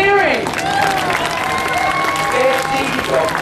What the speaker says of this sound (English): can everyone give Dad a really big clap for volunteering